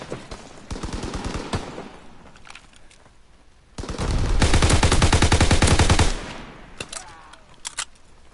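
Gunfire in the Call of Duty: WWII beta comes as sharp single shots and short bursts, then a long loud sustained machine-gun stream, followed by scattered distant shots and no voices.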